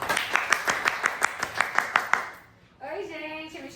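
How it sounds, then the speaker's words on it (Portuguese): Audience applause of steady, rhythmic clapping that stops abruptly, after which a voice begins speaking. "aplausos, Anitta!"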